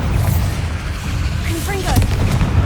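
A Bombarda spell blasts in the video game Hogwarts Legacy, a loud rumbling explosion that fills the clip, with a voice speaking partway through.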